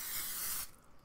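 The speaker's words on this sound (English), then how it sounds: "I'm going to spray it with some cooking spray." Cooking spray hisses onto a cast iron pan in a single close burst lasting about two-thirds of a second, then cuts off.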